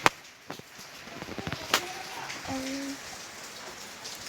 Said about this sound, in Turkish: Arkadaşlar bakın çok güzel yağmur yağıyor.